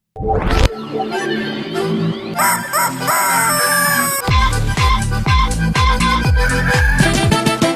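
A rooster crow rings out amid toy-like electronic music and jingles, loud and close, over a bouncy rhythmic backing, from a toy rooster.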